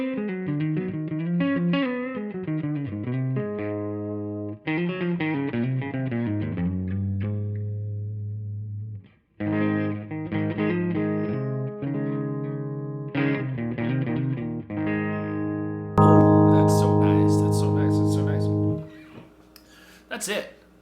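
An electric guitar played through an Ariel Posen One overdrive pedal with a little gain: warm, lightly driven melodic phrases and sustained chords with short pauses between passages, loud and close.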